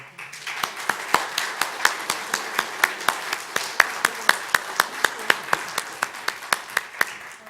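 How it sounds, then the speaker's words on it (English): An audience claps for a handbell choir of teenagers to grandmothers, the claps sharp and steady in an even, almost unison rhythm of about three per second. The clapping carries on alone without a break for several seconds. "they do deserve our applause"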